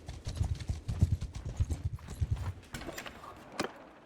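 Horse hooves in the video game Mount and Blade II: Bannerlord clip-clop in a quick, steady rhythm, fairly close, thinning out into scattered taps toward the end.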